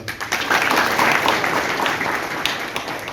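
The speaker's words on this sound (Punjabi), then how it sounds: "ਸਭ ਤੋਂ ਪਹਿਲਾਂ ਜ਼ੋਰਦਾਰ ਤਾਲੀਆਂ ਕਰਕੇ ਅਸੀਂ ਧੰਨਵਾਦ ਕਰੀਏ ਸਾਡੀ ਪੰਜਾਬ ਪੁਲਿਸ ਫੋਰਸ ਦਾ" At a district police chief's meeting with village heads and town dignitaries in Punjab, a gathered crowd breaks into loud, dense applause for the Punjab Police force, swelling quickly and sustaining with scattered sharper claps.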